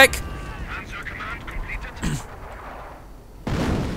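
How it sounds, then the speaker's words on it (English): Artillery barrages in a real-time strategy war game set in WWII, with bursts of booming shell fire and impacts, including a heavy blast near the end, amid game sound effects. "calling down some artillery here might be for interdiction purposes"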